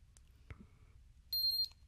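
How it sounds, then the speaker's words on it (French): A short, bright electronic pairing beep from a SwitchBot Smart Tracker sounds once after a faint click, clear against a quiet background. "On a entendu le bip."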